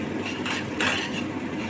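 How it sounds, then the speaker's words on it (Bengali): A spoon scrapes and clinks in a pan while a cashew, tomato and spice paste is stirred and fried, with a soft sizzle and a brief louder scrape near the middle. "ভালো করে কষে নিতে হবে যতক্ষণ না তেল ছাড়ছে মশলা থেকে"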